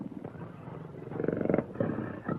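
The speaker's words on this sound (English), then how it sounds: "I vouch that Satan is the only tiger in all Africa" A tame tiger growls in a 1941 jungle film, a rough, rumbling snarl with rising bursts of throaty roaring, close and loud, with no talk over it.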